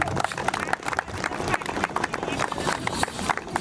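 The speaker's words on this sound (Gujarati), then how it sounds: "તાળીઓ મને ઓછી લાગે છે થોડી" Steady audience clapping fills the hall at a community yoga and fire-ritual event, with a dense crowd murmur underneath throughout.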